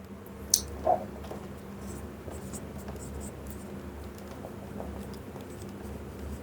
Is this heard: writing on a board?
yes